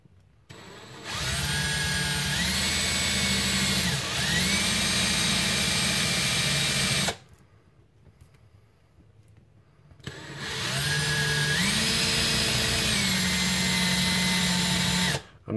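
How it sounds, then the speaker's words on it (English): A power drill bores into a brass breech for a Nerf Retaliator, whining loudly and steadily in two long runs, with a few seconds of near-silence between them. "I can feel the drill bit under my hand"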